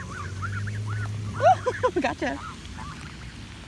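Several geese honk nearby in a quick cluster of loud, nasal calls, with fainter honking before and after and a person speaking briefly amid the birds.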